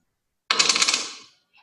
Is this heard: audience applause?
no